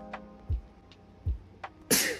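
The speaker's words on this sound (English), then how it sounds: "I have to sneeze." A single sneeze, preceded by a few sharp breathy inhales, ending in a loud burst of spray close to the listener.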